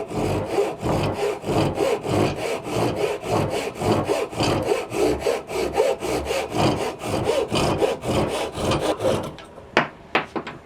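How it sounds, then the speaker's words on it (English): A hand pull saw cuts through wood in steady, rhythmic rasping strokes, about three per second, close and loud, ending with a few separate scrapes and taps once the sawing stops. "The straight cut, I'm going to just use this pool saw."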